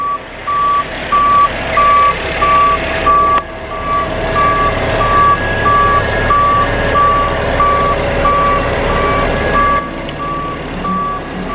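A concrete truck backs up at a log home build site, its reversing alarm beeping in a steady repeating pulse throughout, loud and close over a constant diesel engine rumble.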